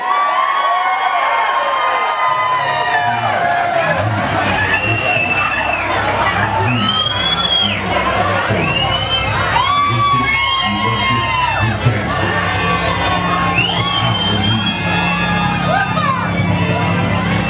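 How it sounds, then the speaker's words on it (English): Large crowd at a disco dance event cheering, whooping and shouting continuously, dense and loud, with a few higher cries rising above the roar. "Put your hands together and make some damn noise"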